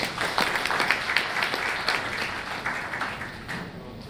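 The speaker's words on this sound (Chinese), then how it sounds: "请大家鼓掌感谢。" Audience applause at the opening of an international shipping forum in Shanghai's Pudong, a dense, steady wash of many hands clapping that carries on for several seconds before thinning toward the end.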